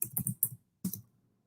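Close, crisp keystrokes on a computer keyboard in two quick bursts with a short pause between them, fairly loud against a quiet room.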